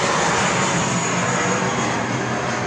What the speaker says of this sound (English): I've flown that aeroplane.